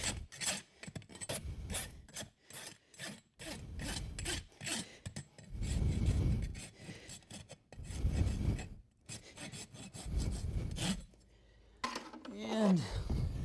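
Clinching rasp filing down horseshoe nail ends on a draft horse's rear hoof, a series of close, rough rasping strokes in uneven bursts, with a voice briefly at the end.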